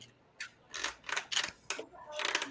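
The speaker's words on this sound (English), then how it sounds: "That's the sound of the shutter." A camera's mechanical shutter clicks several times in quick, uneven succession, close and fairly faint against a quiet background.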